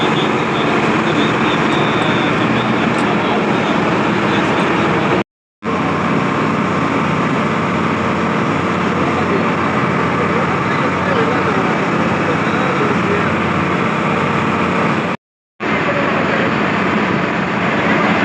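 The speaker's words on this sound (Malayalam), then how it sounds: "ഇപ്പം ബോട്ട് പൊയ്ക്കൊണ്ടിരിക്കുകയാണ്." A boat engine drones steadily and loudly with a broad rumble, briefly cutting out twice, with talk faintly mixed in, near Kanyakumari.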